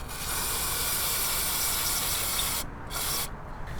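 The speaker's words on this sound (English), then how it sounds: "So we're going to go ahead and spray inside here." Aerosol cleaner sprayed inside the airbox of a BMW E46 M3 with idle problems: a loud, steady close-up hiss that runs almost continuously, broken by two short pauses near the end.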